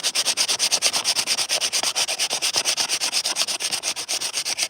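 Steady back-and-forth rubbing on a smaller epoxy resin table piece, a rapid, even scraping rhythm of about eight strokes a second, close and continuous with no voices.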